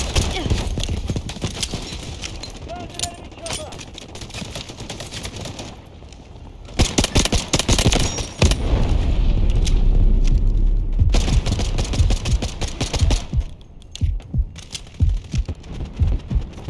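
Gunfire in the Delta Force video game, loud irregular bursts and single shots cracking over a busy battlefield mix, with heavier booms in the middle stretch and game radio voices at times.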